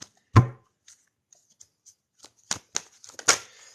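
Tarot cards being shuffled by hand, a few sharp slaps and riffles separated by quiet gaps, close and crisp with no talking.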